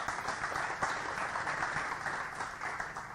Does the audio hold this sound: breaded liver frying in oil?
no